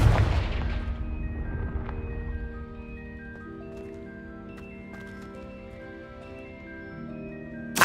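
A Confringo fire spell bursts in the fantasy game Hogwarts Legacy, a loud booming explosion at the start that rings out and fades slowly beneath lingering tonal game sounds.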